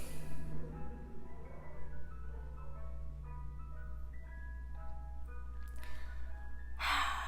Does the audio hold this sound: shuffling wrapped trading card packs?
no